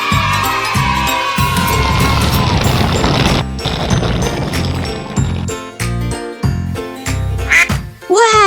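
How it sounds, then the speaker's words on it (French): A little cartoon duck quacks in short repeated calls over busy, clattering background music and effects, fairly loud and close. "Le petit canard appelle, mais Bonbonne ne répond pas."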